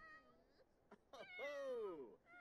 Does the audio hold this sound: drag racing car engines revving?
no